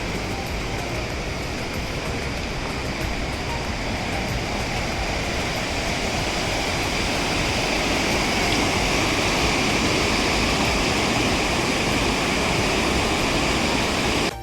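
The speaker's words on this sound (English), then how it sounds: "there's a lot of background sound which is coming in the video. That is because of this beautiful Tirthan river, which is flowing right behind me." The Tirthan river in the Tirthan Valley rushes steadily nearby, a dense, unbroken roar of flowing water that stays loud and even throughout, with no voices over it.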